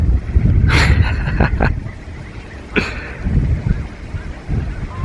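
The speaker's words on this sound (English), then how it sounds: "Geese there at the back." A few loud geese honk in short bursts over heavy wind noise outdoors at a carp fishing lake in Essex, with brief gaps between the calls.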